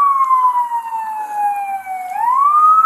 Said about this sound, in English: Squad right there, the siren, you can stop right there.